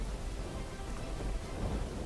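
Heavy rain pours in a dense, continuous roar with a deep low rumble underneath and no voices, in the rural countryside of Rajkot district, Gujarat, India.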